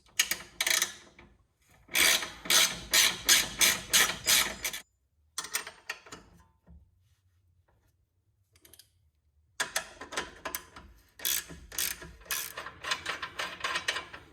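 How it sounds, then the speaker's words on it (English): A wrench on 19mm bolts and 17mm nuts cracks loose the control arm hardware on a Nissan 350z, giving rapid ratcheting clicks in close bursts separated by near-silent pauses. "On the bolt side is going to be a 19mm, on the nut side is going to be a 17mm. Let's crack these loose."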